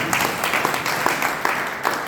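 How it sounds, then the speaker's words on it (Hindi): An audience at a Hindi religious sermon claps steadily, a sustained wash of many hands applauding with a few sharper individual claps, with no voice above it. "अब बजी ताली, अब बजी ताली।"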